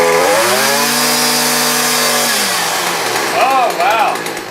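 String trimmer cutting grass with round nylon line and then twisted triangular line, a loud steady engine whine with harmonics that drop in pitch partway through, followed by brief swooshing rises as the line bites into grass.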